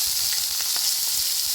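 Potato and eggplant sizzle steadily in hot oil in a pan with radhuni seasoning, a dense continuous frying hiss with small crackles throughout, close and alone.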